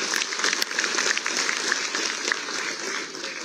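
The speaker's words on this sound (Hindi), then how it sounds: "एक बार जोरदार तालियां ग्रुप 2 के लिए" Audience applause for a group of newly selected municipal staff at a ceremony in Dehradun, steady continuous clapping from a sizable crowd.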